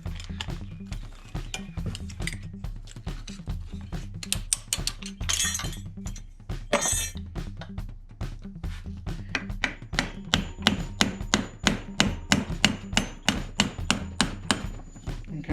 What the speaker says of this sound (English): Using a hammer and a screwdriver, which isn't the best thing to use.